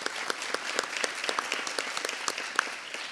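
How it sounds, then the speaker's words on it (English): Dense, steady applause from an audience at a mayors' event, many hands clapping close and fairly loud throughout with no voices standing out. "let's give them a round of applause"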